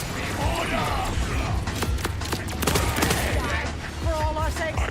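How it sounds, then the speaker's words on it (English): Automatic turret fire in the Borderlands video game, a busy stretch of clattering mechanical bursts and rapid shots running throughout, mixed with game effects and a faint voice. "Oh, that's her auto turret."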